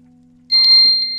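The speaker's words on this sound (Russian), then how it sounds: "Не пищи, блять! Что это? Таймер!" An electronic timer gives one loud, high, steady beep that starts suddenly and holds for about a second over a faint low hum.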